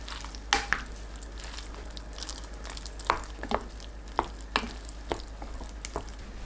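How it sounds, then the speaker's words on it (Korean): A spoon stirs cooked rice with butter, mozzarella, bacon, green onion and soy sauce in a bowl, giving soft squishy scrapes punctuated by a series of sharp taps and clinks against the dish, with no talking. "버터 20g, 모짜렐라 치즈 100g, 베이컨, 파, 국간장 1큰술 넣고 섞어주세요."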